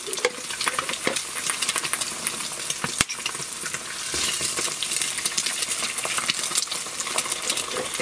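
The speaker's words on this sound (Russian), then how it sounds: "Слышите, шкварчит. Чудо. Первое яйцо пошло." Loud, steady sizzling and crackling of eggs frying in a hot pan on a tiled stove, with occasional scraping and a sharp metallic clink.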